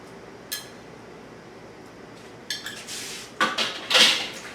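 A tablespoon scraping a stick of soft butter into a pan, a couple of light clinks followed by short scraping strokes of metal on cookware that grow louder toward the end.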